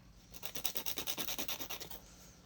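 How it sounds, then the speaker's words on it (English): A nail file rasps back and forth on fingernails, shaping them in about a dozen quick, evenly spaced scratchy strokes, close and distinct against a quiet background. "So we are going to file these into a nice shape."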